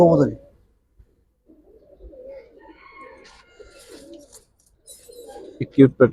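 Pigeons, Giribaz, Kaldum, Khaki and Chila types, give soft low coos from close by, with a burst at the start and another near the end, while people talk in the background.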